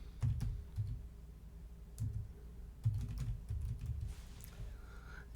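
Keys on a computer keyboard are tapped at a steady, moderate pace, close and fairly quiet, with occasional sharper clicks over a low room hum.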